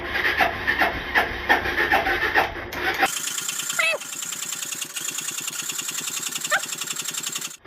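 Suzuki GN250 motorbike, a classic barn find left sitting 15 years with its carburettor out and gummed up, cranks repeatedly with a rhythmic mechanical churning that never catches, starting loud and dropping to a quieter steady turning.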